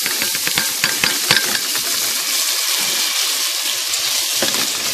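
Rice being stirred with a wooden spoon in a hot pot while preparing fluffy white rice, giving steady close scraping and sizzling with irregular clicks and knocks of wood on the pot, no talking.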